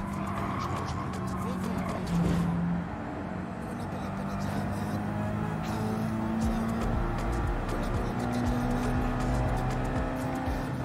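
Subaru race car engine droning steadily in Gran Turismo 7, with a rising and falling whine, faint tire squeal and a voice talking over it throughout.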